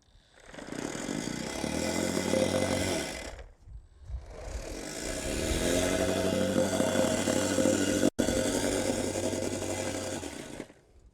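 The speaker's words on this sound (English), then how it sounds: "pull the plate compactor and it digs in. I'll show you. Not with the Milwaukee plate compactor." Milwaukee MX FUEL plate compactor running, a loud, rough vibrating engine-like drone in two long stretches separated by a short drop, heard close up.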